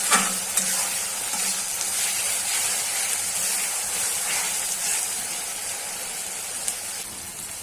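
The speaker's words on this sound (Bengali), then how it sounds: "এখন পেঁয়াজটা হালকা ভাজা গেছে" Onions frying in oil in a pan while chicken liver bhuna is being cooked, giving a steady close sizzle with occasional stirring scrapes and no talk.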